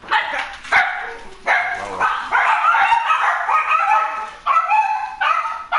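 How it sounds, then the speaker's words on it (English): An eleven-pound guard dog barks wildly at a knock on the door, a rapid series of sharp, high, close yips and barks with brief whimpering gaps, loud and agitated throughout with no talking. "The guard dog is going wild."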